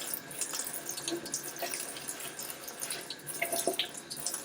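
Tap water runs steadily into a sink, a continuous broadband splashing hiss with small irregular drips and clinks, fairly close, no voices.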